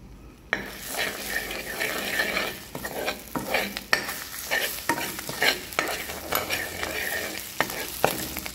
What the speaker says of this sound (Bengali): এর উপর থেকে যে সসটা আমি বাই মিক্সে ব্লেন্ড করে রেখেছিলাম এটা ঢেলে দিলাম